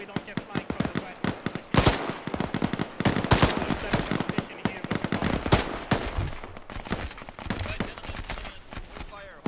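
Rapid bursts of automatic gunfire and single shots in the ArmA military video game, loud and dense throughout with sharp repeated cracks, some far and some close.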